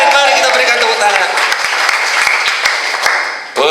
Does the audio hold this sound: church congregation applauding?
yes